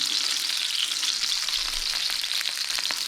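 Rendered bacon fat poured back into a pan, a bright, dense, constant sizzle with crackling pops, close and fairly loud, with no voices.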